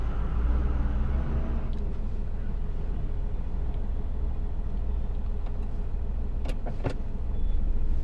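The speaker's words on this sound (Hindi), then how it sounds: "ये ट्रक निकल जाए साइड से।" A truck passes close alongside a moving car on the road, its steady engine rumble and road roar holding loud and near throughout, with a few brief higher bursts near the end.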